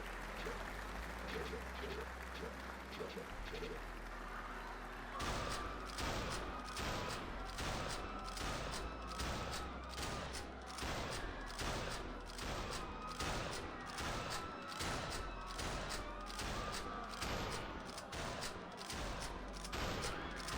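Rifle gunfire in the game Who Wants to be A Murderer. After a softer opening, rapid, evenly spaced shots ring out loudly and repeat for many seconds, with speech faint underneath.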